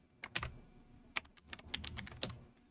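Computer keyboard typing up close, irregular clusters of crisp key clicks with brief gaps between bursts, quiet and alone.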